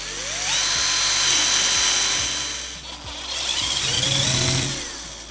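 A power drill bores through several stacked layers of cardboard with a loud, whining, high-pitched buzz. The drilling surges in two long passes with a short dip between them and no talking.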